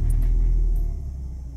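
Engine of a car with an automated transmission cranking over on the key with the brake held in neutral, a deep close rumble that settles into a steady low idle.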